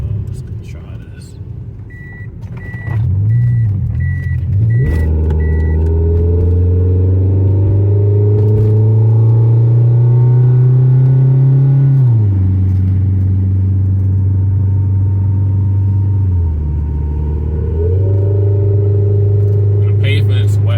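A Toyota Yaris engine revs hard while the car slides on wet pavement. The loud, close drone holds high rpm, dips and climbs again in long sustained sweeps, with a few faint beeps near the start.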